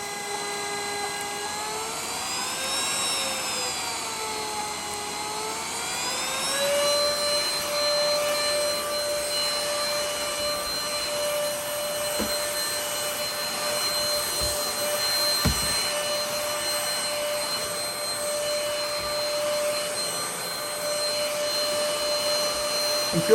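A Greenote GSC40 cordless stick vacuum runs continuously with a steady high-pitched motor whine that shifts pitch early on as the speed setting changes, then holds constant.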